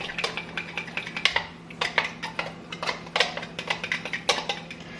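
A spoon scrapes and clinks repeatedly against the inner pot of an Instant Pot while sweet and sour sauce is stirred, close-up metallic taps in an uneven rhythm.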